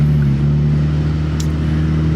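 2015 Honda Civic Si with a stick shift, a close steady engine drone at low revs held evenly throughout, with no talking.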